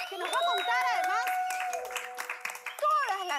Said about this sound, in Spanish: El aplauso para ella